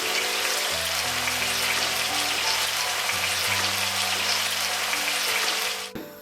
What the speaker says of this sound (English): So I finished frying the chicken.